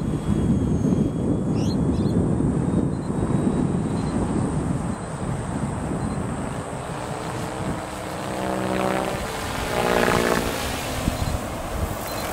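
Logo 600 V-bar RC helicopter in flight outdoors over sand, a sustained rotor and motor whine with steady wind noise, the pitch sweeping as the model passes and distance shifts.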